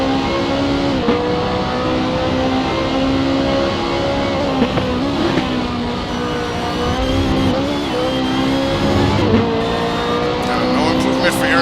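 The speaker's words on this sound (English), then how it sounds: "Aaron Parsons now comes across the start-finish line." A race car in a video game roars across the start-finish line at Bathurst, its engine loud and sustained with shifting revs throughout, while a commentator talks over it.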